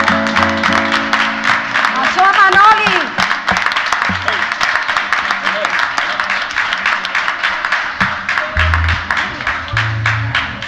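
Applause from a carnival crowd in Maspalomas, Gran Canaria, honouring the carnival queen's costume makers: dense, loud, sustained clapping across the whole stretch, with some music-like tones mixed in.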